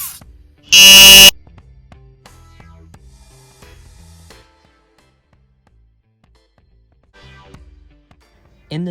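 An Arduino snooze alarm circuit's buzzer gives one loud, harsh electronic blast of about half a second near the start, followed by quiet clicks and faint background noise.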